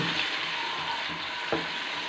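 Chopped onions sizzle steadily in a hot pan with ginger-garlic paste while chickpeas are cooked restaurant-style, a continuous close frying hiss with one brief stir clatter and no talking.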